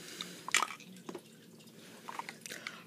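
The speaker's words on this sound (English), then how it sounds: "Scrat, you're eating up all the candy." A cartoon squirrel chews candy, making small wet, squishy bites and soft crunches. The sounds are close and quiet, spaced irregularly with brief pauses between them.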